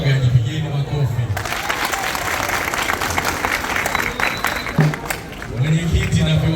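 An audience claps at a send-off gathering for the Dar City club before its trip to Rwanda, a dense burst of applause lasting several seconds, with a voice speaking briefly before and after it.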